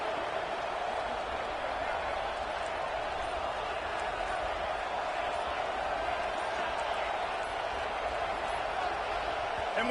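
A loud college football stadium crowd at a Baylor versus BYU game roars in a constant, dense wall of noise that holds steady without letting up.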